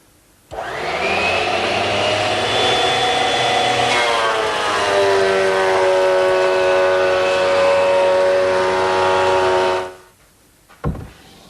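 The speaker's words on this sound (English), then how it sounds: "now I'll take it to my surface planer and true it up" A surface planer trues up a wood board for a turned post bed, running as a loud, steady machine whine with rising harmonic tones for about nine seconds, then shutting off abruptly, followed by a brief knock.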